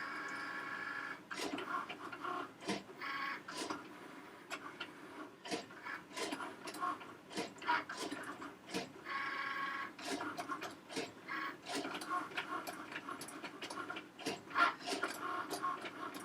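A card-making cutting machine running at a low level, with a busy series of ticking and clicking mechanical movements and brief whirring passes, faint and close.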